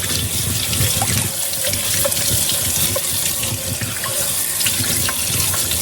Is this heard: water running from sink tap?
yes